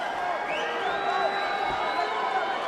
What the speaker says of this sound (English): Some jeers from the crowd here who want to see some more action between these two.